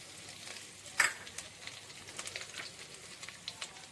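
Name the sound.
frying garlic and carrot for egg fried rice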